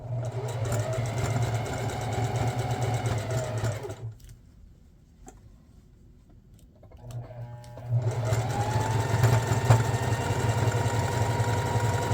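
Sewing machine stitching a nameplate onto an Adidas jersey, a steady close mechanical whir and hum that stops for a few seconds, then restarts and runs on at the same pace.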